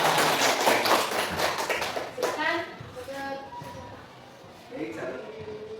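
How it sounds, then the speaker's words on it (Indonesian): A small group in a teacher-training discussion session gives a short burst of close, crisp hand clapping for about two seconds. The clapping fades out, and people then talk. "Tepuk tangan dulu."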